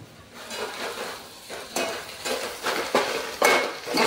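Dal goes into a hot spiced tempering in a pan and is stirred, with a spoon scraping and knocking against the metal in a run of uneven strokes, growing louder toward the end.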